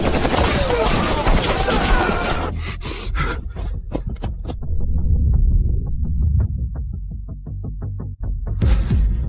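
Heavy guns fire in a dramatic battle scene, a dense opening fusillade giving way to a steady run of loud, sharp shots spaced over a low rumble, with a final burst at the end.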